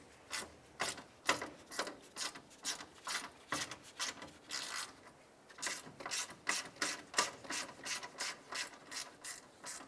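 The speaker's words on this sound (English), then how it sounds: "there's a 10mm bolt holding our ground strap. Let's go ahead and remove that bolt." A ratchet wrench clicks back and forth loosening the 10mm ground strap bolt on the upper radiator support of a 2001-2005 Honda Civic, close rhythmic bursts of ratcheting strokes with brief pauses between.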